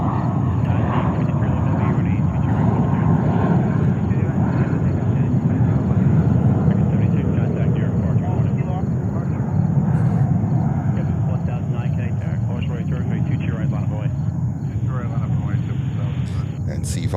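A China Airlines cargo jet takes off from JFK, a heavy, rumbling engine roar that swells and persists throughout, while a person talks over it.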